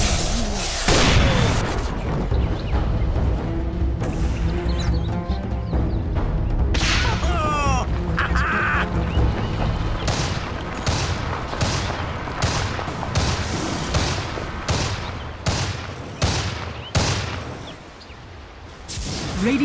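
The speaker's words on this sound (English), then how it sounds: "Dire's bottom tower is under attack." Dota 2 gameplay with a tower under attack, packed with rapid bursts of gunfire-like attacks, booms and sharp cracks in quick, irregular succession, loud and dense, with game sounds layered throughout.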